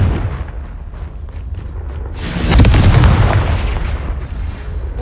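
A Confringo fire curse bursts in Hogwarts Legacy, a loud explosive boom swelling from a low rumble and hanging in a rolling decay, alone without voices.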